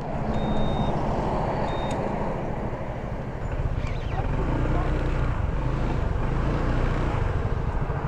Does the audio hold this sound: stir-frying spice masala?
no